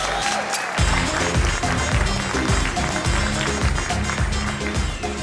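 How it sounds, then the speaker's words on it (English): Wedding reception guests applaud for the bride's parents, continuous clapping heard under loud music with a pounding beat that starts after a brief pause, the applause partly masked by the music. "Ladies and gentlemen, another round of applause for the bride's parents."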